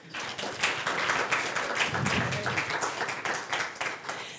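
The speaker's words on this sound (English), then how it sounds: "I want you to applaud for yourselves" A church congregation at an annual meeting breaks into warm, sustained applause, many hands clapping together, swelling and then slowly tapering off.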